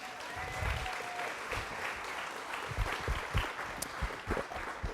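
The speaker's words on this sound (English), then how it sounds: "round of applause to these guys" An audience applauds panelists after a discussion of emerging technology, a fairly soft but continuous patter of many hands, with louder individual claps popping out toward the end.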